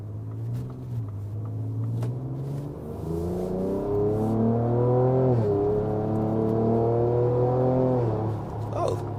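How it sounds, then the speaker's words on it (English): A Ford Ranger Raptor pickup's stock exhaust drones and revs in repeated rising pulls, each surge climbing in pitch then easing off, heard from inside the cab with the back window open. "Keep that back window open, so 'cause I want to hear that exhaust."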